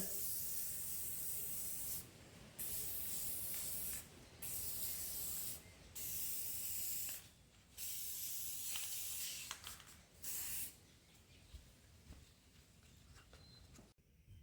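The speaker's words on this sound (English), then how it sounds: "Go ahead and give it a spray. That'll seal everything in." Repeated bursts of aerosol clear gloss varnish spray hissing close by over a decoupaged jug, several short and longer blasts separated by brief pauses.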